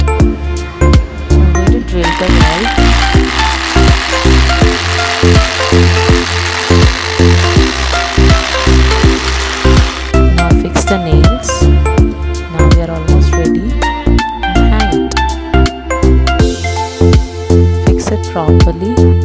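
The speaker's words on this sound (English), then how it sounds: "I'm going to drill the nail." A power drill driving a nail runs in repeated whirring bursts with a steady pulsing rhythm, loud and close, while a tune plays underneath.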